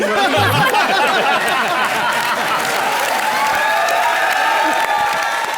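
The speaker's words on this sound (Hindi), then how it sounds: "बहुत अच्छे, जोरदार तालियां।" Studio audience applause on a comedy show, loud continuous clapping mixed with cheering and laughter, sustained for several seconds under scattered chatter.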